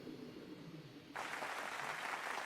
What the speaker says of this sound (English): Can we stop clapping?